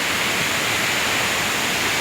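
Ghonsari waterfall in Kankavli taluka, Sindhudurg, Konkan: a constant, full roar of falling water, steady and unbroken, with no voices.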